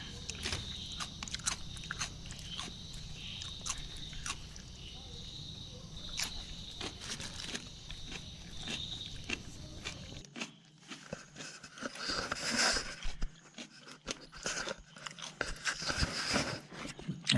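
Spicy cucumber being bitten and chewed at night, alone in a wild forest in Wayanad, a series of faint, close crunches and chewing sounds over quiet background with insects chirping.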